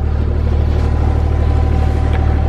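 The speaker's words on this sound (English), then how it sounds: "spin it over till we've got oil pressure" Subaru Impreza GC8 with a turbocharged EJ20 engine spinning over on the starter to build oil pressure after winter storage, a loud, steady, even droning whir, close up and unbroken, with no voices.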